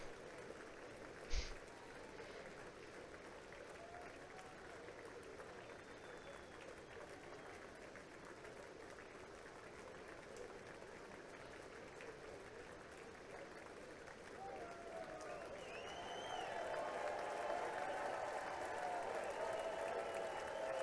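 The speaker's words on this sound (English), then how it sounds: "They cheering him for picking up a folder?" Audience at the State of the Union breaking into applause and cheering, a soft crowd wash that swells louder toward the end after a single sharp thump early on, with faint talk underneath.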